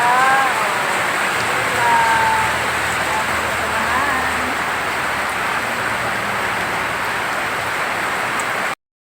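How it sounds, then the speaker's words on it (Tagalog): Heavy rain pours steadily over a village outpost by banana plants in the Philippine mountains, a dense unbroken hiss that fills the whole stretch, with faint voices and a few tonal calls drifting through early on. "lakas ang ulan"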